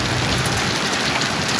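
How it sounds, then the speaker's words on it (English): Steady, dense patter of rain and hail falling in a storm as it begins to ease, a loud continuous wash of drops hitting surfaces close by with no pauses. "It's easing up now. As you can probably tell, but it is still hailing."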